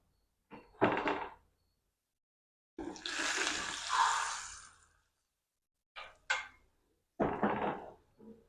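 Hot garlic-infused oil poured onto fermented rice flour and semolina batter, making a broad two-second hiss that fades, framed by short clunks and bumps of kitchen vessels, with no talking.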